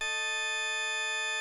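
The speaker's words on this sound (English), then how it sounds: "It's a consonant tritone." A consonant tritone, synthesized with engineered overtones, sounds as a single loud, bright chord that is already playing at the start and holds steady throughout.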